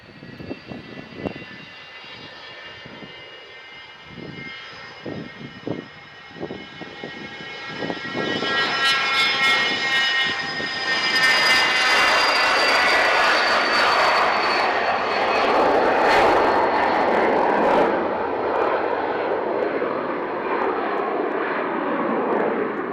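A small business jet takes off at Manchester Airport. Faint ground noise and clicks give way to a rising whine and roar that builds to a loud, sustained engine rush with no voices.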